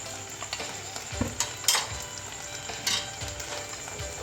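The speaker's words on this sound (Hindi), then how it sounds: "और छोलों की मैं हल्की इसके साथ बुनाई करूँगी" Boiled chickpeas sauté in a pan with cumin powder, amchur, salt, chili flakes and chaat masala: a soft steady sizzle broken by scraping spoon strokes, close and without talk.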